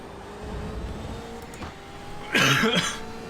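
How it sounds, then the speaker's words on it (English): One brief, rough cough rings out near the end over a quiet backdrop of passing traffic. "Sorry for the coughing."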